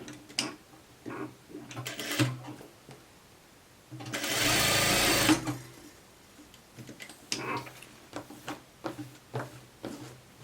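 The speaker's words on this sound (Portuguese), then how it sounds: "costurou aqui embaixo, agora a gente volta despontando" A domestic sewing machine stitches fabric for a garment collar in a loud continuous burst of about a second and a half, with quieter stop-start clicks and short runs before and after.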